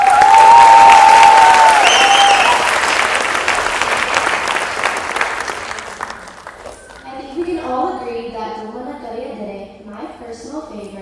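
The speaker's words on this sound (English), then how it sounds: "Can we please get another round of applause for Anushka?" An audience at a classical Indian dance recital applauds, loud dense clapping for about six seconds that fades away, followed by a voice speaking in the room.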